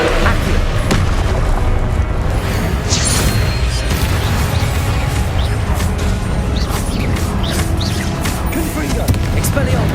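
Repeated fiery spell blasts boom and crash through a dense, loud game soundscape in Hogwarts Legacy, the Confringo explosions overlapping with other spell effects and a voice calling out over them.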